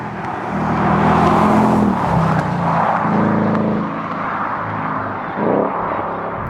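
A Ford Mustang Dark Horse being driven, its engine a loud, close, throaty drone that rises and settles through gear changes, heard alone without talk.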